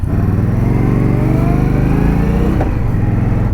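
An Indian Scout Bobber Twenty motorcycle from 2020 rides along, its V-twin engine giving a steady, close, throbbing drone with slight pitch shifts as it cruises, heard alone without talk.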